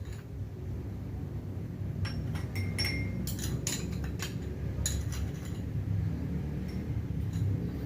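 Coffee grounds being added to a glass for a colloid practical, heard as a run of small clinks and taps of glass and spoon over a steady low background, close and moderately quiet.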